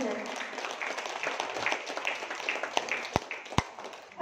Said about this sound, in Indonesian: Aplaus untuk PT BES dan FTC.